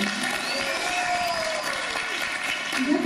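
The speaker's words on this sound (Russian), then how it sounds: "Я вас попрошу приветствовать их громкими, бурными аплодисментами" Concert hall audience applauding a patriotic art studio group, a steady, dense wash of clapping with some crowd noise and a faint tonal sound running through it, sustained at an even loudness.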